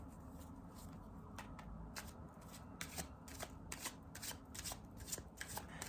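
Tarot deck shuffled before a clarifying draw: soft, quiet riffles and papery flicks repeat in an uneven rhythm, close and unaccompanied by voices.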